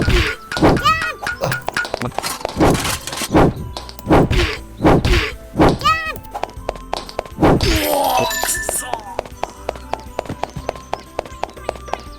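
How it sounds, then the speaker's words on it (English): Enemies being defeated and falling in the video game bk2, a run of sharp thwacking hits and bouncy chiming effects over game music, followed by a steady clicking tick pattern. "The enemies have different falling sounds."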